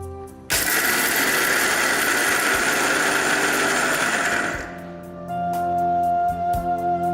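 Peanuts being ground to a medium-coarse texture in a kitchen grinder give a loud, steady whirring roar for about four seconds, then stop. A few clicks and shorter motor bursts follow.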